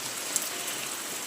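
Heavy rain falling during the monsoon, a steady, dense hiss of drops with no pauses, close and even throughout, with no voices.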